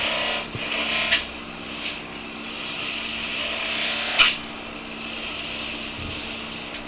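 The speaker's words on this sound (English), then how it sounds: "now we can use the skew just to get that shaping round" Skew chisel shaping a wooden peg doll on a spinning lathe, a steady rasping scrape of the tool against the turning wood with a few brief sharper bursts, close and continuous without talk.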